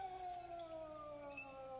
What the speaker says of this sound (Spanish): ¡Están aullando!